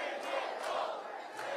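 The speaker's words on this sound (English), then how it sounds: "What a crowd. What incredible energy." A crowd cheers after a political speech, a dense, continuous roar of voices with a few rising swells, heard from a distance at moderate loudness.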